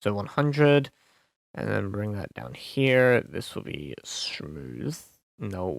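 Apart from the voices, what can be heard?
No everyday noise stands out behind the speech.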